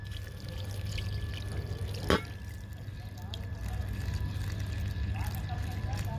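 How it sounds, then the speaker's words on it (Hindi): Water is poured into a potted Sanchezia plant, a steady low splashing and trickling flow that continues for several seconds, with someone talking over it. "ये देखिए, ये मैं पानी भर के डालूंगी अब इसमें।"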